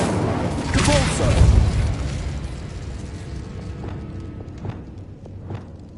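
A deep booming Expulso explosion spell in the video game Hogwarts Legacy, a loud low blast in the first two seconds that trails off, followed by fainter crackling pops.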